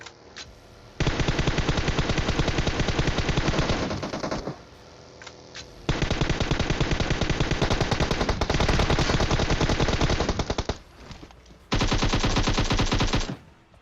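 Heavy automatic gunfire from the video game PUBG Mobile, loud and close, comes in long sustained bursts of rapid shots broken by brief pauses, with no talk over it.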